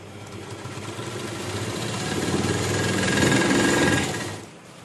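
A sewing machine stitches the side seam of a kurti, running in one continuous rapid mechanical whirr that builds slightly, holds, then winds down and stops near the end, close and alone without talk.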